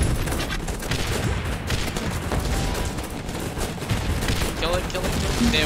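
Dense, continuous volleys of gunfire in the strategy video game GunsUp, a steady loud barrage of overlapping shots with no clear breaks.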